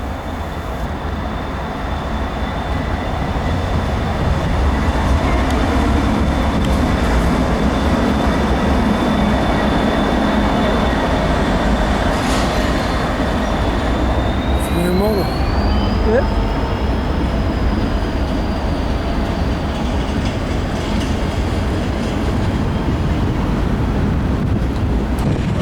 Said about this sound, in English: we caught a eastbound intermodal train led by Ennis